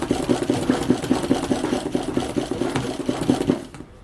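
A machine embroidery run on fabric held in a hoop: a close, steady rapid rhythmic thumping of the needle, running continuously for several seconds, then slowing and stopping near the end.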